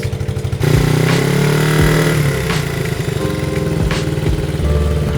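A restored 1981 Honda XR80 motorcycle engine starts and then idles up close, loud and steady, with a few quick revs rising and falling over a constant small-engine putter.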